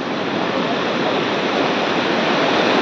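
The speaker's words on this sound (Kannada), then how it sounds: "ಎಷ್ಟು ದೊಡ್ಡ ಅಲೆ ಬರ್ತಾ ಇದೆ" A big sea wave surges onto Gokarna Main Beach in Uttara Kannada, heard as a loud, steady rushing roar of breaking surf that swells slightly toward the end, with no talking.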